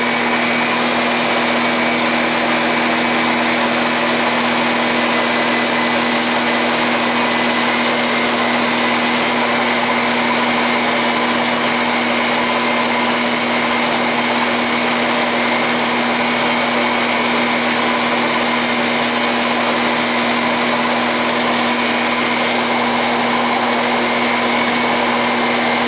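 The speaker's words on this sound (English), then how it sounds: "Here's a little of the grinding." A grinding wheel runs on a Bridgeport mill, surface grinding a part for a Stirling engine, producing a loud, steady, high whine that holds unbroken throughout.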